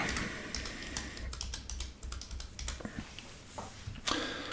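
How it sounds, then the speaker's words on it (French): Rapid typing on a computer keyboard while entering a search term in a WordPress admin panel; close, crisp key clicks in quick irregular bursts with brief pauses, no voices. "Et là, ici, on va taper Gutenberg."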